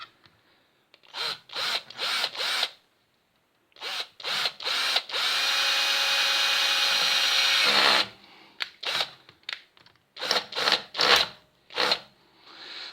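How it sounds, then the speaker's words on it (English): Short bursts of a small power drill whirring, stopping and starting, with one longer sustained run in the middle, close and fairly loud. "I'm going to drill a tiny little hole just there"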